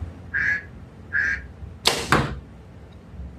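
Two short nasal duck quacks sound at an archery range, followed by two sharp sounds of arrows striking a target, all close and clear with no talk.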